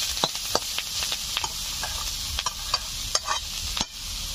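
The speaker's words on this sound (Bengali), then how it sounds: "বীজগুলো চটপট করে ফুটতে শুরু করে দিয়েছে" Spice seeds crackling and popping in hot oil in a home kitchen pan, with ground turmeric, cumin and dried chilli added, under a continuous sizzle punctuated by sharp irregular pops and stirring scrapes.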